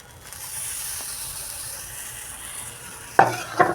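Dosa batter sizzles on a pan over a low gas flame, giving a soft, steady close hiss that ends in a sudden louder clatter near the finish.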